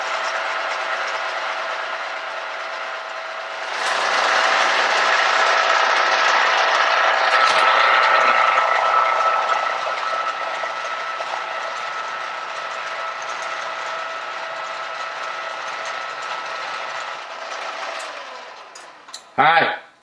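A boring bar cuts through an engine cylinder bore with a steady, continuous mechanical whir and faint ticking that rises in level after a few seconds. A brief louder clank comes near the end.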